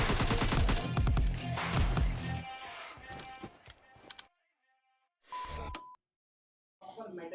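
Rapid bursts of automatic gunfire from the PUBG Mobile Lite battle royale game, loud and dense in the opening seconds, then scattered shots fading out, with a couple of short isolated bursts after silence.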